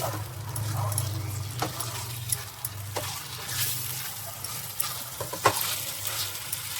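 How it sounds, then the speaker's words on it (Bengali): Chicken meat fries in a pan for dak bungalow curry, a steady sizzle with a low hum underneath and occasional scrapes and taps of a stirring spoon. "যতক্ষণ পারবো কষিয়ে যাব মাংসটা"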